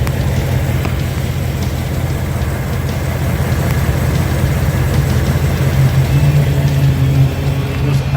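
A 2018-2019 Ford Mustang engine idles steadily up close, a smooth, continuous low rumble with no ticking and no talk.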